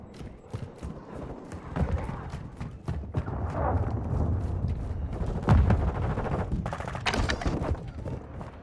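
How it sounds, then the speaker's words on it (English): A cruise missile strike lands in Call of Duty: Modern Warfare II, with heavy booming blasts and rumbling explosions building over steady battlefield noise. The loudest bursts come near the end, close and forceful. "Hostile cruise missile incoming"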